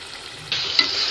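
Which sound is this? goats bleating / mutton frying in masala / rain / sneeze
mutton frying in masala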